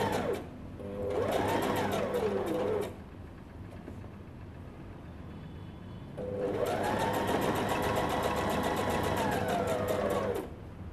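A sewing machine stitches a child's pajamas in two close, steady runs of rapid whirring stitches, each lasting a few seconds, with a quiet pause between them.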